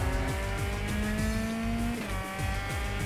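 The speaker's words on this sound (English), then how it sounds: "I can hear engines behind me." Race car engines in a video game racing round at Interlagos drone loudly as they climb and drop through gears, with repeated rising whines and faint tire squeal, steady and continuous with no talking.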